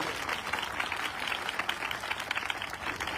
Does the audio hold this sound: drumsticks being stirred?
no